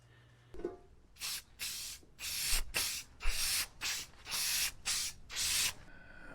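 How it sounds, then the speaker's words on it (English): A spray can lays down clear satin enamel as a protective finish on a DIY phone mount, in about eight sharp hissing bursts separated by short pauses, close and alone. "Then I've got just some clear satin enamel, just to kind of give it a protective finish."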